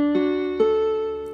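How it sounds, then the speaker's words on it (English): A Mieke MK931 budget electronic keyboard holds a standard-voice note with subtle vibrato, with a second soft attack partway through, steady and fairly clean, no voices. "You can add vibrato."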